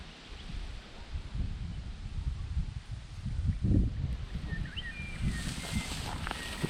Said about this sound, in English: It's a bit windy, so hopefully my voice comes out alright.